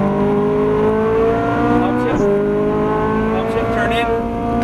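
Ferrari 458 Italia V8 accelerating hard on a race track, a loud, steady rising engine wail with a brief shift dip midway, while an instructor's voice talks over it throughout.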